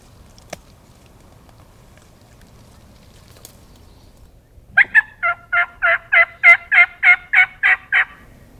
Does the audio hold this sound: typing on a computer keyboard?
no